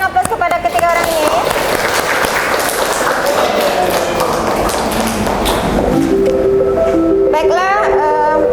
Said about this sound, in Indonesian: Kita berikan aplaus kepada ketiga orang ini.